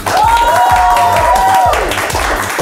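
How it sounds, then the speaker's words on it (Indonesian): Steady applause from a studio audience on an Indonesian talk show, loud and continuous throughout, with a sustained tonal voice or musical note riding over the crowd. "Tepuk tangan untuk Reza Candika"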